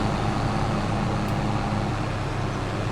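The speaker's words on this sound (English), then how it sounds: "All we have to do is hop in the tractor, turn the machine on" A tractor running a Tree Be Gone tree-removal machine in Farming Simulator 22 gives a steady, dense engine drone with a low rumbling hum that holds level and close for the whole stretch, with no talking.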